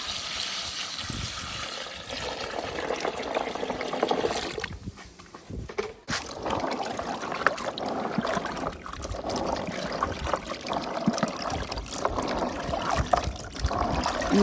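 Fresh abepa palm nuts being washed by hand in water in a village kitchen, with continuous sloshing, splashing and trickling up close and a short quieter pause midway.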